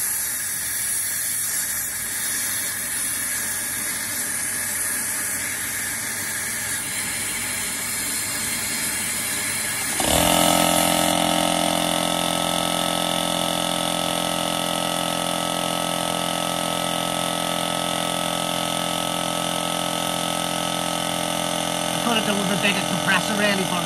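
An air compressor runs during walnut blasting of the inlet valves on a misfiring R56 Mini Cooper S engine, a continuous loud hiss and mechanical drone whose tone shifts and grows stronger partway through.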